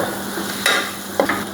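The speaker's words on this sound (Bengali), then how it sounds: "সুন্দর একটা ফ্লেভার লাল লাল করে আমি এই ভেজে নিচ্ছি" Prawn heads fry in a pan until reddened, a steady close sizzle with two brief sharp knocks of a utensil against the pan, no talking.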